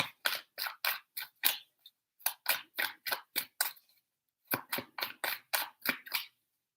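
Tarot cards being shuffled by hand in three quick rounds, each a run of crisp, rapid flicking riffles with short pauses between them, close and clear with no talking.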